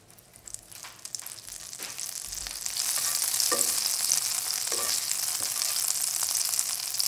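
Butter sizzles in a hot skillet turned down to medium-low, a steady bright frying hiss that swells after a few seconds and holds, with a few soft clicks, no voices.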